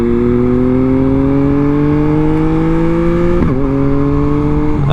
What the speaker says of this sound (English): I'm blipping the throttle